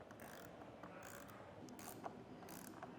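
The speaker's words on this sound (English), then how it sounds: "And once this is hand tight, I can start using my wrench." A wrench ratchets as it tightens the tower bolt on a Rhino-Rack Vortex roof rack fitted to a 2023 Jeep Grand Cherokee, giving steady clicking bursts close by with no talking.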